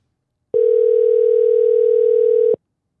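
Telephone dial tone heard as a phone call is placed, a single steady loud tone lasting about two seconds, starting and stopping abruptly, with no talking over it.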